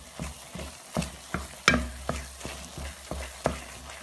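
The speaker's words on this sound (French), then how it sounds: "On continue toujours de mélanger jusqu'à obtenir la coloration voulue." Roho dough is stirred in a pan as it browns to golden, giving close, steady spatula scrapes about twice a second over a faint frying hiss, with no talking.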